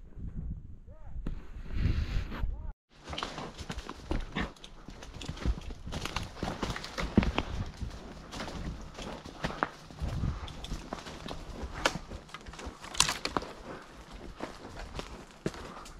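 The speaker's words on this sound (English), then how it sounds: "Okay, Porter, you go gallop straight that way, okay?" Horses galloping through trees and a draw while roping wild cows to haul to winter pasture, hooves clip-clopping in an irregular, fairly close rhythm with occasional voices over them.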